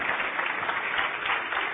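A church congregation applauds during a sermon, producing a steady, continuous rush of clapping that holds an even level throughout and sounds muffled and narrow, as if heard through a broadcast.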